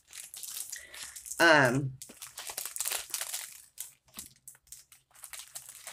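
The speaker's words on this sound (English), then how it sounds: "These dang plastic bags." Plastic bags crinkle and rustle in bursts over several seconds, with one louder crumpling squeeze in the middle and softer handling noises after, close to the microphone.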